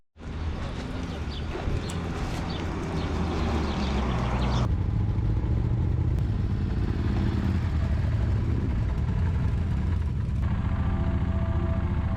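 Old Moto Guzzi motorcycles setting off from where they were parked, a steady loud engine rumble and clatter that continues throughout, close by with outdoor background noise.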